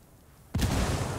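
Grenade blast in Ghost Recon Wildlands, a sudden loud boom after near silence that holds as a dense rumbling wash.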